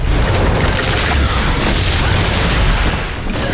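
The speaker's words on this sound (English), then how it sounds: "Pop the bomb." A bomb in Flintlock: The Siege of Dawn goes off with a heavy, loud booming blast that rumbles on for several seconds amid crackling debris and game noise before easing slightly.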